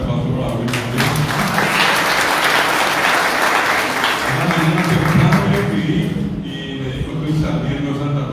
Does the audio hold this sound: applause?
yes